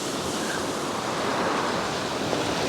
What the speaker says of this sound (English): Sorry about the wind, it is quite windy this morning.